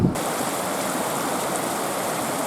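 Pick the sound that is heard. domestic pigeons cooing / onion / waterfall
waterfall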